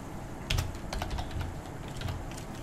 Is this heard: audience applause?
no